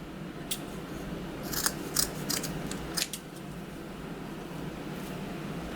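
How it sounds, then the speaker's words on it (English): A few quick snips of scissors cutting ribbon ends at a diagonal, crisp close clicks over a steady background hum. "So to ribbon cut the ends, you just fold it in half, the fold at the top, open ends at the bottom, and cut at a diagonal, just like that"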